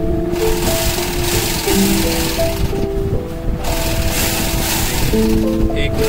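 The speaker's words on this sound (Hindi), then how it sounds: "अब सिलाई शुरू कर दी सीट के लिए।" Sewing machine stitching a soft cover for a bike seat, running in a steady continuous whir with a slight hum, close and fairly loud throughout.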